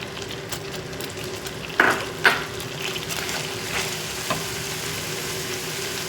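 Onion paste with ginger-garlic paste and green chillies frying in a pan, a steady close sizzle with a couple of sharp stirring clunks near the middle and no talking.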